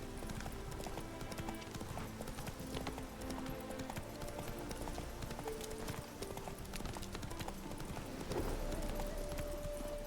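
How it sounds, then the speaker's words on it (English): A horse gallops in The Witcher 3: Wild Hunt, with rapid continuous clip-clopping hooves throughout, fairly faint beneath game ambience, and a brief tonal sound near the end. "Whoa there, Roach"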